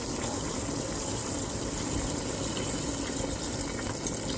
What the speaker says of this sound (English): pour some water in it, and I'm going to cover it down.